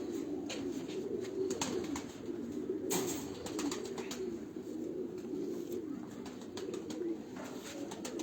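Pigeons kept on a rooftop loft coo steadily in a low, continuous murmur throughout, a dense layered chorus with no speech over it.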